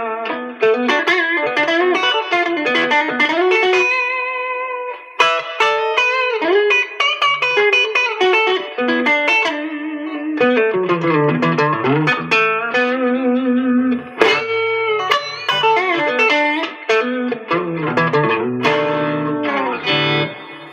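A Fender American Pro II electric guitar on its middle pickup position plays a continuous run of chords and ringing notes through effects with distortion, chorus and reverb, loud and up close with no voices.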